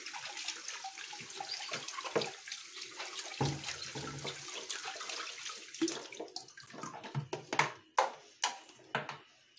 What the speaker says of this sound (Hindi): इसके बाद हमें इसके पाइप को साफ करना है अच्छे से।